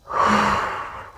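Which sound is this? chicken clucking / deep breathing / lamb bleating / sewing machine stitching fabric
deep breathing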